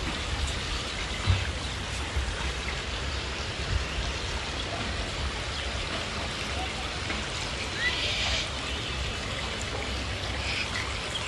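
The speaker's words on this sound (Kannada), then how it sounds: "ನೋಡಿ ಎಷ್ಟೊಂದು ಮಳೆ ಬಂದದಿಲ್ಲಿ" Heavy rain pours down in a dense, steady hiss that stays loud and even for the whole stretch, with no break or let-up.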